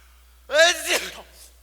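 A single short sneeze on a high school theatre stage, close and fairly loud, standing alone against near silence.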